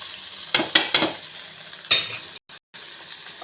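Cooked matki sprouts with onion, turmeric and peanut powder being stirred and mixed in a pan, with several quick spoon-against-pan clinks over a soft sizzle and a brief dropout near the end.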